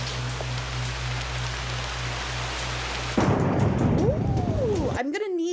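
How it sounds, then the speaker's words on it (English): Heavy rain pours down steadily as a dense, even hiss in an outdoor survival-island show, then gives way partway through to louder voices talking over the scene. "That rain is absolutely unbelievable."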